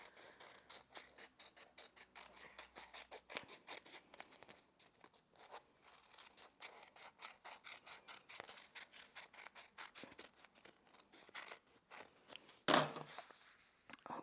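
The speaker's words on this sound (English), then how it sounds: "I'm just going to trim the top and do some more sort of hilly things" Scissors trim paper for a scrapbook postcard, giving a close, quiet series of crisp snips in an uneven rhythm, with a short louder rustle of paper being handled near the end.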